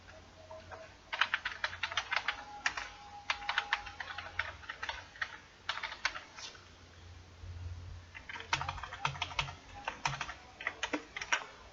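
Quick bursts of typing on a computer keyboard, with clusters of crisp keystrokes separated by short pauses, close and fairly quiet, as a figure caption is entered in Microsoft Word.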